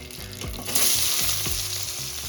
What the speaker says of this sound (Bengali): পেঁয়াজটাকে ভালো করে হালকা করে ভাজা ভাজা করবো নাড়াচাড়া করতে থাকবো